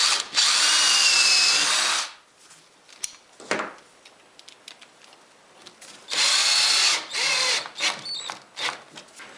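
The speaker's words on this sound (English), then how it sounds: "I'm just going to be attaching it with a couple drywall screws" A power drill drives drywall screws into hardboard in two loud, close bursts of about two seconds each, with quieter clicks and handling noises in between.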